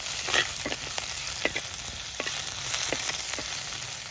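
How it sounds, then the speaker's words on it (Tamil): Crushed green chillies and curry leaves sauté in hot oil in a pan for a Tamil rasam, giving a steady close sizzle broken by several short scraping stirs, with no talking. "இது நல்லா வதக்கி விட்டுடுவோம்"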